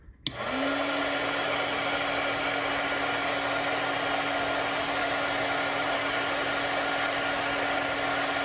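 A heat gun shrinks 1/8-inch heat shrink tubing, starting with a click and then a steady fan-driven whoosh with a faint hum that holds evenly for several seconds, no voices.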